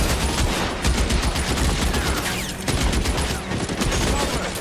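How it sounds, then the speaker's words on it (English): Dense, continuous gunfire from a shootout in the video game LA Noire, with rapid overlapping shots and bursts filling the whole stretch, loud and close, with a brief lull midway. "This is a lot of gunfire."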